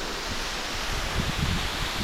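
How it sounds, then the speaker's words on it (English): A waterfall on the Appalachian Trail makes a dense, continuous splashing roar close by, steady and broadband with no voices. "I'm getting splashed and everything for the waterfall."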